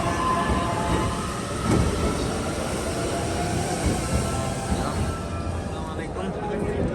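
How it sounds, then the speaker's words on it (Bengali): A train rumbles steadily close by as it arrives, a loud continuous roar of wheels and carriages with a faint squeal, and people talk faintly underneath. "ট্রেন চলে আসছে, এখন আমরা ট্রেনে ঢুকবো।"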